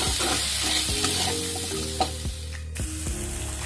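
Chopped banana stem is tipped into a hot pan and stir-fried, giving a continuous sizzle broken by several scraping, clattering strokes of the spatula, close by and with no talking.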